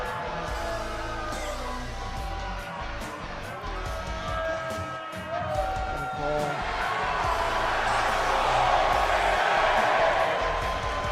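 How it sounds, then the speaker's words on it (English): Arena crowd noise from a WWE 2K game's NXT show, a steady broad roar that swells louder toward the end, with commentary talking over it throughout. "The NXT crowd loves the Panama City Playboy."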